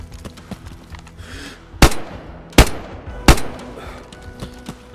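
Three sharp, loud gunshots from the survival video game DayZ ring out at irregular intervals over a low ambient background, each followed by a brief echoing tail.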